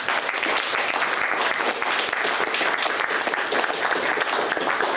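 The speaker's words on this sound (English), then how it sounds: "let's just give our panelists one more round of applause" Loud, sustained applause from a crowd at the end of a panel event, a dense, steady patter of many hands clapping without a break.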